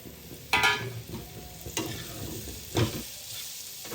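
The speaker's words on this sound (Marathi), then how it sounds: "तर आता यामध्ये टाकूया शिमला मिरची, ढोबळी मिरची." Capsicum stir-fried in a pan: a soft sizzle with three louder bursts as a spatula tosses and scrapes the pieces, close and without speech.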